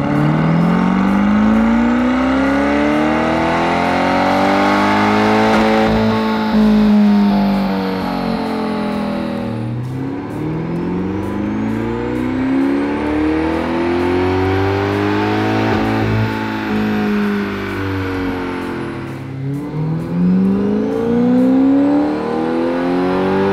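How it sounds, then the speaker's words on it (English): A C8 Corvette fitted with a Lingenfelter intake manifold roars loudly in an indoor dyno cell, its engine sweeping up through the revs and dropping back in about three long, repeated pulls. "Let's see some pulls on the dyno and we'll take a look at the data."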